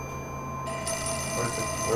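In the Fatal Frame 4 video game, a telephone rings with a continuous electronic bell tone that starts softly and grows slightly louder over two seconds.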